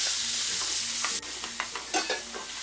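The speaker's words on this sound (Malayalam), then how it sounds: "ഇത് ഇതിലേക്കിട്ട് വഴറ്റി കൊടുക്കാം" Seven finely chopped medium onions hit hot oil with fenugreek for an egg curry, a bright sizzle followed by several scraping, knocking stirs of the spoon against the pan, close and clear.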